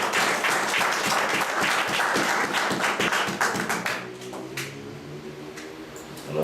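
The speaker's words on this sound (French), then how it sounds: "Nous applaudissons cet esprit de Dieu dans la vie" A church congregation applauds in worship, a loud, dense clatter of many hands that thins out toward the end, leaving a few scattered claps under a sustained organ-like musical tone.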